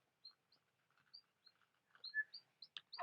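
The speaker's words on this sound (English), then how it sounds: "That bird is really making some great sounds, huh?" A small songbird chirps and tweets in short, bright phrases spread across a few seconds, with quieter twittering between them and a louder, busier burst of calls toward the end.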